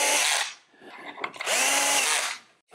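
A cordless drill with its clutch set low drives screws into a wooden bicycle generator mount, giving two loud whirring bursts of the motor separated by a brief pause with a faint click.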